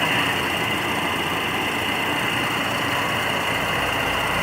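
1977 Chevrolet Monte Carlo with a 350 V8 four-barrel engine idling under the open hood, a steady even drone with a broad hiss, close and unchanging.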